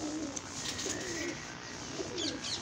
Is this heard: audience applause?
no